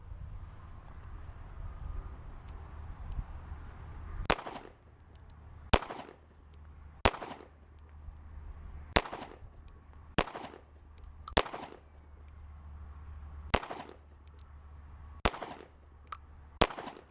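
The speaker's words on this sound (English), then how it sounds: "30 rounds total I'm going to shoot, see how they function" Sharp, loud pistol shots from a Smith & Wesson M&P 40C being test fired outdoors, about a dozen single cracks spaced one to two seconds apart over steady wind noise.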